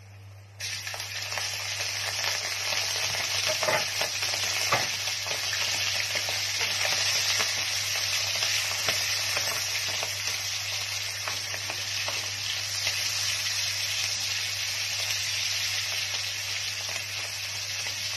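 Pieces of beef heart hit hot rendered fat in a pan and sizzle loudly, a dense steady crackle with a low hum beneath it, alone and close.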